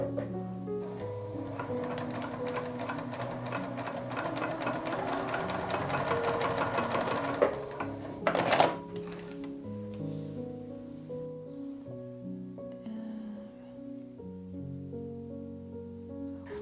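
Juki TL 2010Q sewing machine with a Teflon foot stitching through two layers of cork, a rapid steady needle clatter building to a fast run, a brief sharp burst, then slower rhythmic mechanical ticking.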